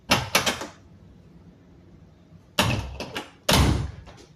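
A motorhome door, fitted with its original handle and a standard lock, swings shut three times with firm, close thuds and a short rattle after each closing, separated by quiet pauses.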